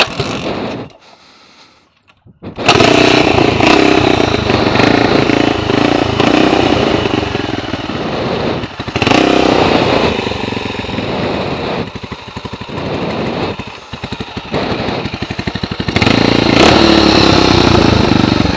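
A custom chopper motorcycle engine fires up after a brief rumble and runs loud and close, idling roughly with occasional revs.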